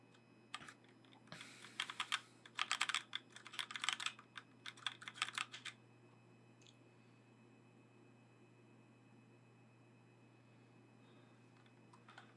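Typing bursts on a Razer Pro Type Bluetooth keyboard, a quick run of close, crisp key clicks lasting about five seconds against a low steady hum, then fading into quiet room tone.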